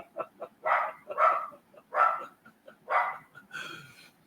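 A dog barks several times in a quick, moderately loud series of yaps, heard indoors with no talk over it.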